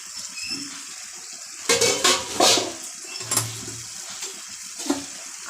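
Chicken curry being stirred in a cooking pot, a few bursts of metal spoon scraping and clinking against the pot with short pauses between, close and moderately loud, no talking.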